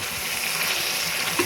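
Bottle gourd (lau bhaji) frying in a pan gives a steady, close sizzling hiss with no pauses and no talking.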